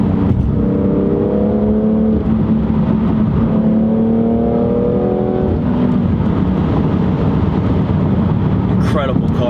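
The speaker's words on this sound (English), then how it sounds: "you let your foot off the gas, the thing just pops." Loud, continuous engine and exhaust sound from a 2018 BMW M3 Competition, with the pitch climbing and falling through repeated revs before the throttle lifts, and a few sharp pops near the end.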